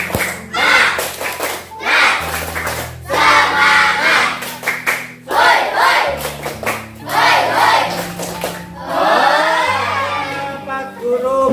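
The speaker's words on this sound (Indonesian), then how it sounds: "tepuk semangat dulu," A classroom of students performs a rhythmic spirit clap and chant, bursts of synchronized clapping and shouted voices repeating in short phrases, loud and close.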